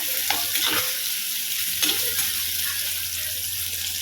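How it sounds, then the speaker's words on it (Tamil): Onion and garlic fry in a pan for a dal-dumpling curry, with a steady close sizzle throughout and a few spoon scrapes and stirs at the start and around the middle. "வெங்காயமும் பூண்டும் சேர்த்துக்கிட்டேன் நல்லா இது ரெண்டும் நல்லா வதங்கட்டும்"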